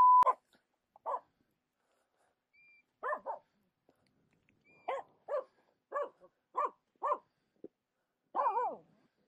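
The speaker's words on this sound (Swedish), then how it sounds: "Du gillar verkligen att skälla på dem" A Finnish Spitz barks at golden plovers on an open upland hilltop, a series of sharp, separate barks and yips in irregular bursts, fairly close against a quiet background.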